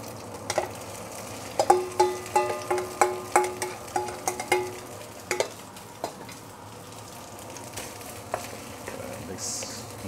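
Rice is stir-fried in a wok with half-cooked egg, and a spatula knocks and scrapes the metal in a quick, steady run of strikes before it slows to scattered taps, all over a constant frying sizzle.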